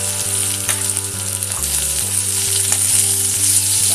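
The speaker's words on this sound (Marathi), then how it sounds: "कांदा पहिला फोडणीला घ्यायचा आहे।" Onion for sambhar tempering sizzles loudly in three spoons of hot oil, a dense crackling fry close up with a steady electrical hum underneath and no speech.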